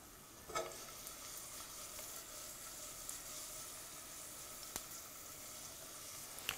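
Garlic sizzles gently in olive oil over low heat, a faint, even crackle with occasional soft ticks and no voices.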